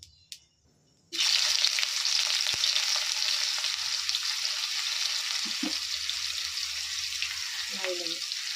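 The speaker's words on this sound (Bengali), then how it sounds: "এবার তেলে গোটা জিরে দিয়ে দেব অল্প পরিমাণে পেঁয়াজ কুচি দিয়ে নেবো" Cumin seeds and chopped onion hit hot oil after a moment of near quiet, bursting into a loud, steady, close sizzle that holds throughout, with a few faint clinks over it.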